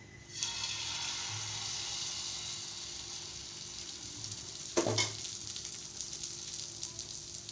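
Barnyard millet dosa batter hits hot oil on a pan, a steady broadband sizzle running throughout with a sharper burst of frying near the middle as the batter spreads, close and fairly loud with no voices.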